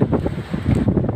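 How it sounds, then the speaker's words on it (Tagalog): Strong wind blusters against the microphone near a coastal boulevard during tree planting, a loud, rough rumble that gusts unevenly through the brief moment. "Ay, sobrang lakas ng hangin."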